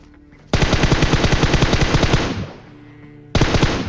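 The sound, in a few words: gunfire in a video game shootout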